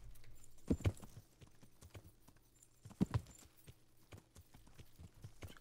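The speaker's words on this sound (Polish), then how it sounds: "Koń dosyć szybki jest." A horse in the video game Kingdom Come: Deliverance gallops, its hooves clip-clopping in two distinct bursts of quick hoofbeats, separated by softer, scattered footfalls and faint game ambience.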